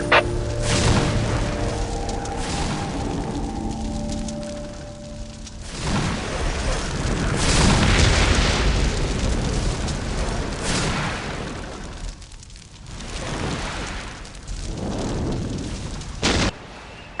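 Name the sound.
Whirlwind artillery tank explosions in Dawn of War video game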